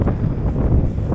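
Strong mountain wind during heavy rain on a trail below a pass buffets hard and close in low, rumbling gusts. It is continuous and loud throughout the short stretch, with no speech.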